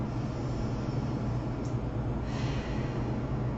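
One deep breath is drawn with a fist pressed just under the sternum on the diaphragm, a close, slow airy inhale under a faint steady hiss.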